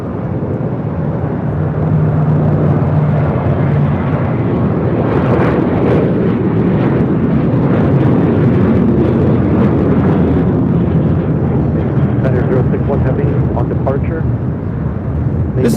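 An old Boeing 747-400 passenger jet at LAX on runway 25 right, a loud continuous roar of jet engines filling the whole stretch, with a voice talking over it.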